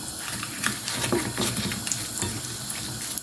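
Potato-filled samosas frying in hot oil, a steady close sizzle and bubbling with small crackles throughout, no talking.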